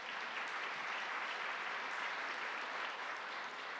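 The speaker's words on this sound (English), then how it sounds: "Was that Steve Nova clapping?" Steady, dense applause from a crowd at a county government forum, even in level throughout, with no voices standing out.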